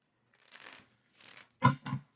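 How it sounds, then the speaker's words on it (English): Tarot or playing cards being shuffled close by, a few soft riffling bursts with a louder quick pair of riffles at the end, with no talking. "I kind of feel like I need to shuffle one more time."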